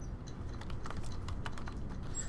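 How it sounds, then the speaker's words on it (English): Keys tap on a computer keyboard during data entry in a database form, a quick, faint run of clicks and tab presses over a low steady hum. "those of you who are good with the keyboard, you can just hit tab and it's going across and then down to the next one."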